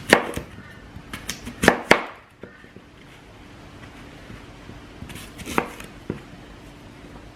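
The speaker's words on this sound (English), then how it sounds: "we'll start by cutting up the apple" A knife dices an apple on a cutting board while horse treats are prepared, giving a few sharp chopping clicks early on and again later, close and fairly quiet against a steady hiss of background noise.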